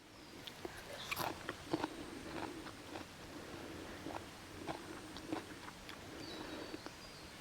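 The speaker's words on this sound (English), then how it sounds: "So I will give this flower a taste." Biting and chewing a freshly picked winged bean flower, close crunchy bites followed by steady moist chewing in an irregular rhythm, with no talking.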